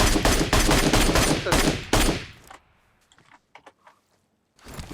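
Rapid automatic gunfire in the video game PUBG Mobile, a loud dense burst of shots lasting about two seconds, followed by a few scattered fainter clicks and knocks and a last short loud burst.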